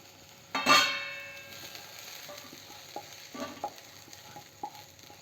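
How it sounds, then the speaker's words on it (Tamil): Sautéed onions and garlic, cooked for a brinjal and poppy seed gravy, are moved from a pan to a plate on a switched-off stove: a loud opening scrape and clatter, then scattered soft stirring taps and clinks. "அடுத்து ஸ்டவ் ஆஃப் பண்ணிக்கிட்டு நம்ம இதை வேறு ஒரு பிளேட்டுக்கு மாற்றிக்கலாம்."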